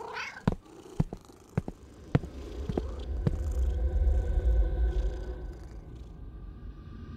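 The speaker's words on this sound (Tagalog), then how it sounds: "Bumangon ang pusa mula sa pagkakahiga sa harap ng pinto." A black and white cat purrs close up, a low rumbling purr building through the middle, preceded by several sharp clicks and taps.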